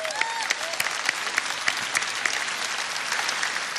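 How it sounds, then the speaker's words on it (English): Crowd applause at a Trump rally in Cedar Rapids, Iowa, a loud, continuous wash of many hands clapping with scattered sharp claps standing out, close and unbroken for the whole stretch. "That's worth clapping for, I think."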